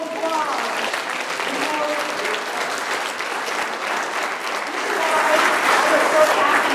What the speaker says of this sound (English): let's give Chuck a round of applause